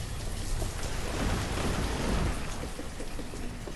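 Steady rain falls with a low rumble of thunder in Banished, the colony-building game, a dense, continuous hiss of drops, loud and close, with no voices.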